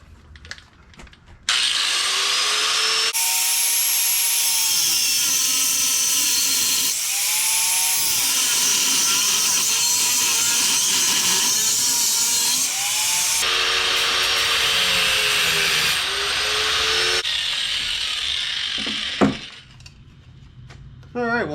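A power saw cuts through a metal steering linkage tube on a hot rod, a loud sustained whine with shifting pitch in several passes, ending with clinks of metal pieces, no talk.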